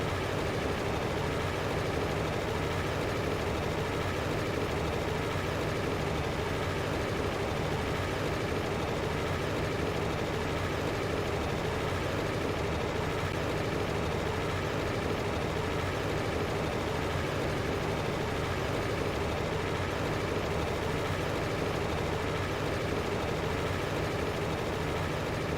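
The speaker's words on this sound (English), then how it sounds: "This poor tractor today is getting our workout." Steady, loud engine drone of a farm tractor in the Farming Simulator game, running continuously for the whole stretch with an even low rumble and no talk over it.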